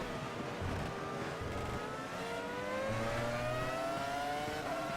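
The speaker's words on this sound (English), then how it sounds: "Glorious V10 engine resonating." A Formula V10 race car engine in the Automobilista racing game screams at high revs, pitch climbing steadily through gears with brief drops at shifts, loud and continuous with no talk.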